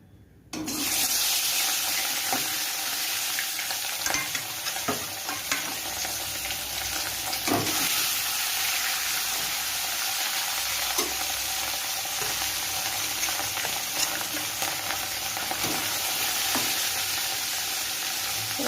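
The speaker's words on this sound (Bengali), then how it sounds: "মাছগুলো ভেজে নেব।" Fish fry in hot oil in a wok with a steady, loud, close sizzle and hiss, broken by small pops and crackles throughout, with no talking.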